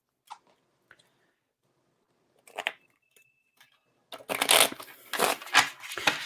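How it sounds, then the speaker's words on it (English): A deck of playing cards is shuffled by hand, first as a few faint isolated taps and riffs, then a dense burst of fast rustling and flicking near the end, close and alone with no voices. "Now I'm going to shuffle them again"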